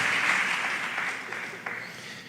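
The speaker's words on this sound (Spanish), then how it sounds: "¿Cuántos pueden darle ese aplauso al Rey de Reyes y Señor de los señores?" Church congregation applauds, a dense burst of clapping that starts loud and gradually thins out over a couple of seconds.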